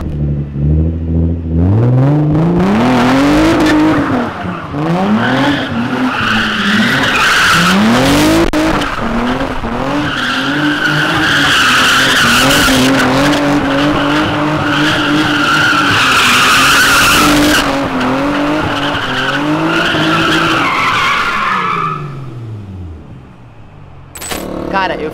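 Car tires squeal loudly in long, repeated skids while drifting with the handbrake, the engine revving and rising under the screeching, close and sustained before fading out at the end.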